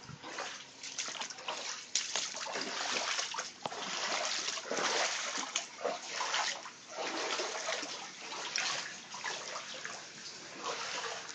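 Continuous splashing and sloshing of feet wading through ankle-deep flood water inside a flooded apartment, close and fairly loud with uneven surges, no talking.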